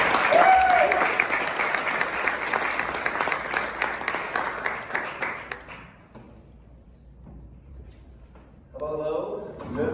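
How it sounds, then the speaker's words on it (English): An audience at a business interview event applauds two guest executives, a full round of clapping that fades out midway, followed by a brief quiet and then a voice speaking. "Round of applause."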